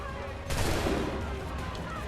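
Burst of rapid gunfire erupts a half second in from a battle in Assassin's Creed III, loud and dense, then trails into a steady combat rumble.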